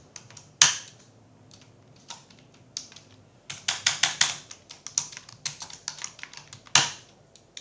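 Typing on a computer keyboard, close and clear, with scattered single key presses at first, then a quicker burst of clicks, and a sharp louder keystroke near the end.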